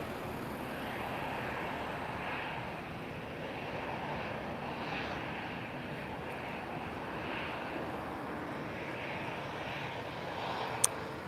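A Boeing 787-9 Dreamliner airliner at Lisbon Airport on a cloudy, windy evening gives a steady distant engine roar, blended with broad wind noise and holding even in level for the whole stretch.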